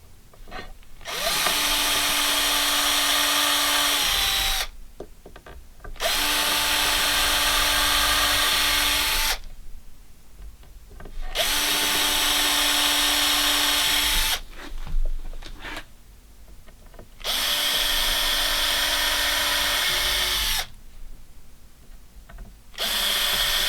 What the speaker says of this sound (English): When you drill your pilot holes, don't go all the way through the wood.